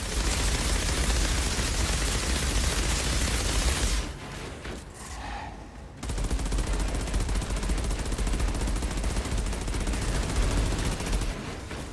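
Dense, continuous gunfire from the video game Outriders Worldslayer, loud rapid bursts that cut out for about two seconds and then resume just as heavily, with no talking.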